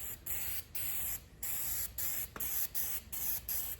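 Easy-Off oven cleaner sprayed from an aerosol can onto painted lettering, a series of about eight short hissing bursts with brief pauses between them, close and fairly quiet.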